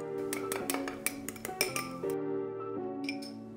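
A spoon clinks repeatedly against a bowl while stirring mayo, sweet pickle relish, sugar and white vinegar into a sauce: quick bright taps in uneven bursts over a soft tonal background.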